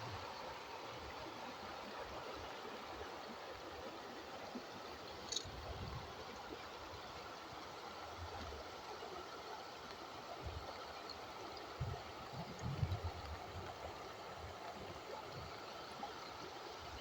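Floodwater flowing over the path to a house in the Malnad region after very heavy rain, a faint steady distant rush of a stream with small gurgles, no talking.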